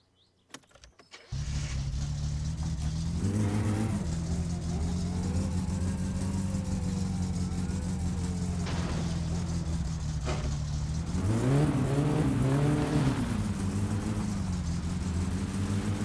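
Satsuma car in My Summer Car on street tyres: the engine starts with a clatter, then holds a loud, steady drone with rising revs midway and a stronger surge of acceleration later.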